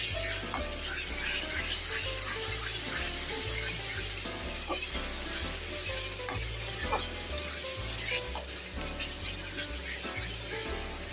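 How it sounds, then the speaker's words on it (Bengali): Fish frying in a pan in a home kitchen, with a steady close sizzle and crackle throughout and a low rhythmic hum underneath, no speech. "ওদিকে আমার মাছ ভাজা হচ্ছে"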